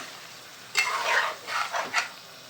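Black pomfret fish curry is stirred in masala in three short bouts of wet scraping and gentle sizzling in a pan. The pan sounds close, the bouts come after a brief quiet start, and there is no talk.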